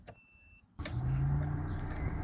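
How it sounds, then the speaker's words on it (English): Electric thermo fans on a 1991 VP Commodore kick in suddenly after a key turn and a click, settling into a steady, moderately loud whir close by, with no talking. "As you can hear the thermo fans going."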